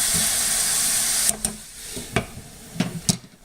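Prime rib fajita ingredients sizzle in a hot pan, a continuous hissing fry that drops in level partway through, followed by several sharp scraping or stirring clatters.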